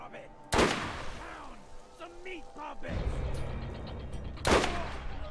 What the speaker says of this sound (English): Sawed-off shotgun